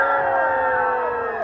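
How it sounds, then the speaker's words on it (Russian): Stadium crowd cheering and applauding after a penalty goal at a Georgian football match in Imereti, a dense sustained roar of voices at steady loudness, easing slightly at the end. "Вообще шквал аплодисментов с трибун, какая-то эйфория."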